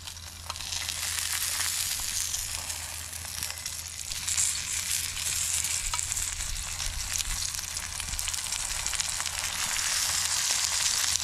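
Fish fry in oil at a coconut farm, giving a continuous, close hiss and crackle of sizzling that holds steady throughout, with no one speaking.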